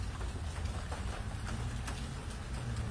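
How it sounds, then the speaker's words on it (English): Rain falls outdoors with a steady, dense hiss and scattered patter, faint and continuous throughout with no other sounds. "Well, you're sitting out here watching it rain."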